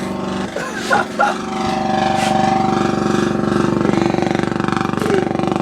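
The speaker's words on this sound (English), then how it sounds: "That's a generator." A loud generator on a boat drones steadily with a rhythmic low chug, close by and continuous, after a few brief knocks and clatters at the start.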